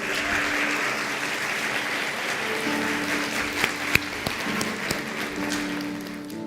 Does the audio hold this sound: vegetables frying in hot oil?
no